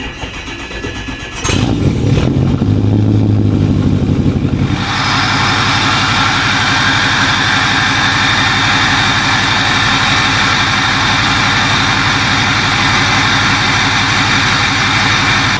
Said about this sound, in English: the sound of a 6-liter is just unbeaten in my opinion. They sound so good, they're so knocky.